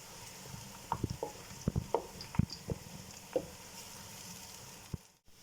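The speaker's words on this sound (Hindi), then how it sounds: "देखिए प्याज गोल्डन फ्राई हो चुके हैं" Onions frying until golden in a pan, a soft steady sizzle with scattered crackles and pops, close and fairly quiet, with no talking.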